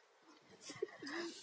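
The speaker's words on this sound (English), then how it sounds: "But other birds have come around." Birds calling outdoors, a few soft cooing notes rising and falling against a faint airy background, fairly distant and quiet.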